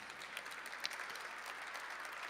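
Distant applause from a crowd at a public budget forum, a steady soft patter of many hands clapping throughout.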